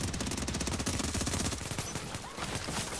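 Dense gunfire in the video game Last Stand: rapid, continuous shots rattle loudly throughout with no pause, like a sustained fusillade close to the listener.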